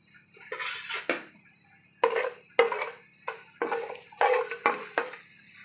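Cumin seeds and urad dal frying in a pan for a bitter gourd and onion stir-fry, heard as a run of sharp metallic clinks and scrapes of a utensil against the pan with a faint sizzle underneath.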